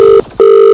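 A telephone rings close and loud, two bursts of an electronic tone separated by a short gap.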